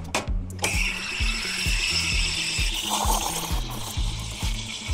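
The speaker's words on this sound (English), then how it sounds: "Ready? Let me steam it." An espresso machine's steam wand steams milk in a jug filled to three-quarters at a busy cafe coffee station, giving a loud, steady hiss over a rhythmic low mechanical pulsing.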